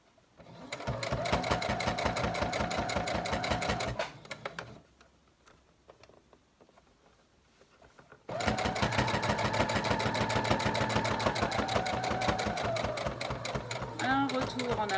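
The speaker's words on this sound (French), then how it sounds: "Enlevez bien les épingles avant d'arriver dessus parce que les machines n'aiment pas ça du tout." A sewing machine stitches a fabric face mask in two long rapid-fire bursts, loud and close, with a quiet pause between them.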